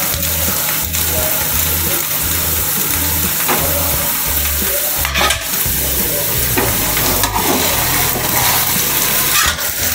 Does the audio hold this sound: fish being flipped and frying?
yes